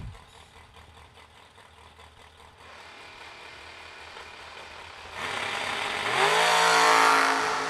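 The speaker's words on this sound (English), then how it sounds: "Factory Moser Engineering backed machine, that Gen 1 Camaro, 564 on the dial board, chasing the Watsu Vega wagon with Jake Clayton at the wheel, dialed 615." Drag racing launch at a vintage event: a Gen 1 Camaro and a Vega wagon accelerating down the strip, engine roar building in two steps to a loud, bright, rising blast near the end.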